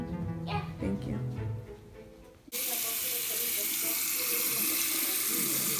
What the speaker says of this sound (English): can you help him turn the water off?